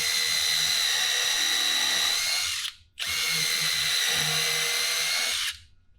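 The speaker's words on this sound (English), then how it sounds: "I'm going to pre-drill my other side here while I'm at it" A power drill pre-drilling a screw hole in a stage platform whirs steadily at high speed in two long bursts, separated by a brief pause, close and loud with no talking.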